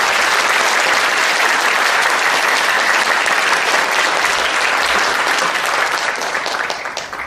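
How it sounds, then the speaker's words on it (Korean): A lecture audience at the Busan District Court gives enthusiastic, continuous applause, a dense wash of many hands clapping that stays loud for several seconds and starts to taper near the end. "우리 박성호 선생님한테 뜨거운 박수를 부탁드립니다."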